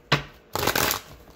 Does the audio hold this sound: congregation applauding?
no